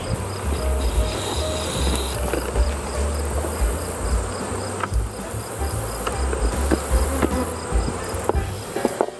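Honey bees buzz steadily and loudly during a beehive inspection, a close, dense swarm drone with occasional individual bees passing near, and no voices.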